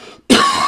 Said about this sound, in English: I almost made it through the whole show without coughing